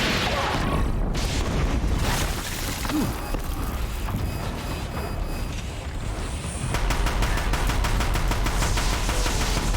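A grenade explodes during combat against machines in the video game Horizon Zero Dawn. Heavy, rumbling booms and blasts roll through a dense battle mix, with clattering mechanical noise and a renewed burst of loud impacts toward the end.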